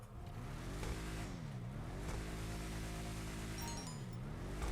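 The Bravado Gauntlet Classic muscle car in GTA 5 Online revs its engine with turbo whine, loud rising and falling tones that climb, drop and climb again in a steady droning cycle.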